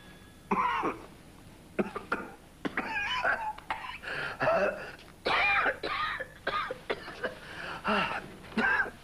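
A smoker coughs and clears their throat repeatedly in short rough bursts, close by, with brief pauses between fits.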